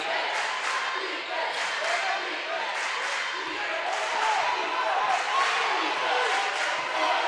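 A crowd at a high school basketball game keeps up a steady roar of cheering and chatter across the gym, with sharp squeaks and bangs poking through and a commentator talking over it.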